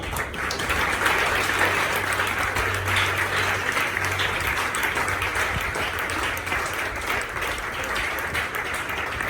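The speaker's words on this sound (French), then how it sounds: "Et acclamez pour cette parole" A church congregation claps and applauds together in a sustained, even burst of hand-clapping that fills the room, moderately loud, with no gaps.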